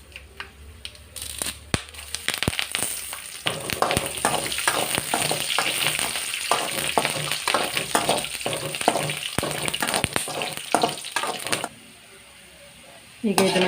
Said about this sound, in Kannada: ಅದು ಬಿಸಿ ಆಗುವಾಗ ಒಂದು 2 ಸ್ಪೂನಷ್ಟು ಶೇಂಗಾ ಬೀಜ ಹಾಕ್ಕೊಳ್ಬೇಕು.